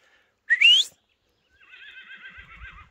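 A horse gives one sharp, rising whinny, then after a pause a person whistles a wavering tune, with faint low thumps at the end.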